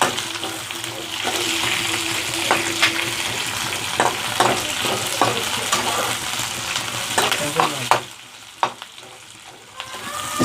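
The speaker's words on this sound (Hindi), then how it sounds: "इसमें स्लाइस कट करके रखा था वो हम इसमें डालेंगे और इसको अच्छे से हम फ्राई होने के लिए छोड़ देंगे।" Sliced onions frying in a pan for Chinese chicken: a steady, close sizzle with scraping stirs and occasional sharper crackles runs throughout, easing near the end.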